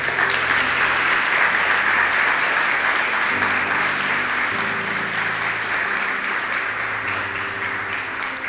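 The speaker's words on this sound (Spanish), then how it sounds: "Dale un aplauso al Señor." Sustained congregational applause in a church during a sermon, broad and continuous, with low sustained musical tones running underneath and a slight fade toward the end.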